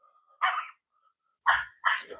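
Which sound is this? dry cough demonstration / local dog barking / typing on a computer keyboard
local dog barking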